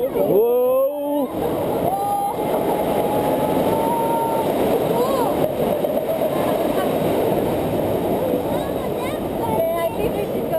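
A raft on the Kali River Rapids ride at Disney World rushes through churning water, a steady loud wash of splashing and roar throughout, with riders shouting and talking over it.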